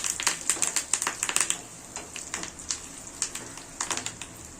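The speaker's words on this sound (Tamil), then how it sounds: "இப்போ இது கூட கொஞ்சமாக கருவேப்பிலை இதை லைட்டாக வதக்கிக்கலாம்" Curry leaves sauté in hot oil in a pan for a cabbage and brinjal curry, giving off rapid bursts of sharp crackling and spitting pops that come in clusters and then thin out.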